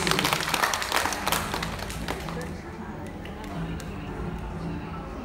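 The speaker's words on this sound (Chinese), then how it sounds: "我们给个掌声鼓励师傅" An audience at a Thailand snake show claps for a handler who caught a snake bare-handed, a burst of scattered applause that is loud at first and then thins out, with voices murmuring underneath.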